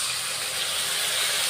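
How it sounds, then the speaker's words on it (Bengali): Water poured into a hot pan while cooking dheki shak, giving a brief, steady hiss of steam and sizzle, close and even. "জল দিয়ে দিচ্ছি।"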